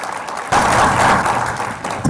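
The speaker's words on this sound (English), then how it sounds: "let's give them a round of applause for continuing to be involved" Applause from a demo day audience breaks out after a brief quiet moment, a dense steady wash of clapping that holds for over a second before thinning.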